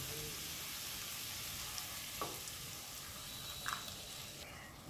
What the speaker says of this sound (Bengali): ডিমের ঝুড়িটা দিয়ে 30 থেকে 40 সেকেন্ড নাড়াচাড়া করব।